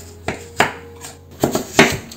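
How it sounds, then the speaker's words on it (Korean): A knife julienning carrot on a cutting board, five or six sharp knocks coming in an uneven rhythm, close and crisp with no talk. "가늘게 채 썰어주시고요."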